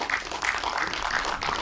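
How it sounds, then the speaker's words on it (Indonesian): Audience applause at an Indonesian community ceremony discussion, a brief, soft patter of scattered clapping. "Ada, benar, tepuk tangan ya,"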